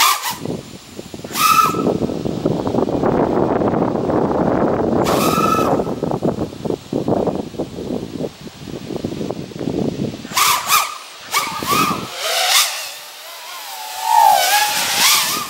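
An FPV racing quadcopter on RaceKraft 5046 props punches to full throttle: a loud, hissing roar surges for several seconds and fades, followed by shorter whining passes and tonal swoops as it flies near and away.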